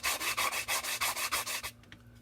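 A plastic part from an AMT scale model truck kit being sanded in quick, even back-and-forth strokes, close and scratchy, about a dozen passes, then stopping.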